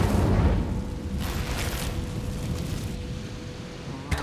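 The Incendio fire spell cast in Hogwarts Legacy bursts with a deep, loud whooshing roar that stays steady and rumbling for a few seconds before easing off.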